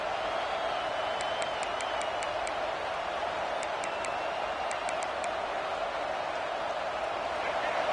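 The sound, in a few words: stadium crowd cheering in a video game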